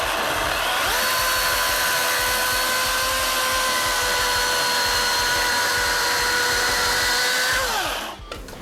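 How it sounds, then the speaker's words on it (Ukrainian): Close, loud Milwaukee M18FCHS-121B cordless chainsaw cutting wood with an even, sustained buzzing whine that holds steady before dropping off at the end. "давайте попробуємо зробити ще раз, але я постараюся пилу назад відсувати"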